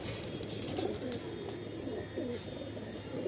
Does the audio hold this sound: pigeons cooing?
yes